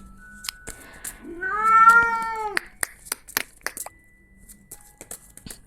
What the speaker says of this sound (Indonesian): kalau kamu udah kasih kucing aku, dia sibuk mau kawin ya